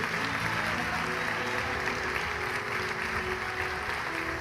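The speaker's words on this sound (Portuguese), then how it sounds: "Quantos podem dar um aplauso a Jesus nesse momento e dar glória a Ele?" A crowd applauds continuously, a dense steady wash of clapping that holds at the same level throughout.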